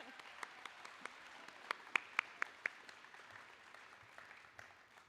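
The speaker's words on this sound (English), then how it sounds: "I'm going to clap for them." An audience at a community college nursing pinning ceremony applauds the graduates' families, a faint, diffuse patter of clapping with a few sharper nearby claps standing out, some way off.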